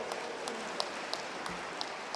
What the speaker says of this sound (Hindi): ऐसी जोरदार से ताली बजा करके।